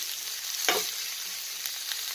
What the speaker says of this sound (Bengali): এখন আমি বেরেস্তাটা ভেজে নেব। পেঁয়াজটা আর কি বেরেস্তা বানিয়ে নেব।